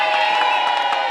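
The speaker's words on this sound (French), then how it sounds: "C'est les cris de joie qui accueillent Bertin Malikidoko à son arrivée au rendez-vo" A crowd cries out with joy and cheers to welcome a politician arriving at a gathering in a commune of Kinshasa, a dense, loud wash of shouting voices sustained throughout.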